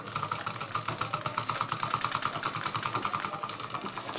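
A Bing upright toy steam engine, freshly repaired and overfilled with water, ticks over steadily with a rapid, even mechanical chuffing and clatter, close and moderately loud throughout.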